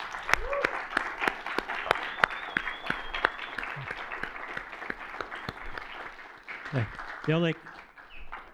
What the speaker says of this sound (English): I would love to have you join me in giving Joe Hadzima a big round of applause.